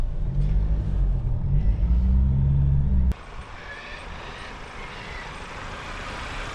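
A vehicle towing a caravan rolls along a narrow bush road past the Duncan River, a loud low engine rumble that cuts abruptly to a lighter, steady road and wind roar.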